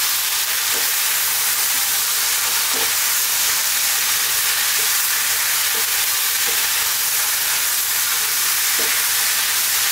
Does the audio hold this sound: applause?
no